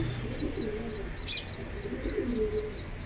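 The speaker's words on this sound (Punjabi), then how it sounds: "ਇਹ ਕਬੂਤਰ ਨੇ ਇਹ ਬੱਚਾ ਹੈ ਤੇ ਇੱਕ ਇਹ ਮਾਦੀ ਜੀ" Tournament racing pigeons coo in low, soft bursts close by, with faint high chirps repeating in the background.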